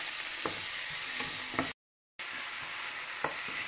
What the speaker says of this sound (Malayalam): ഒരു വലിയ തക്കാളി ഇട്ട് കൊടുത്തു. ഈ തക്കാളി ഒന്ന് പതുക്കെ വഴറ്റിയെടുക്കാം.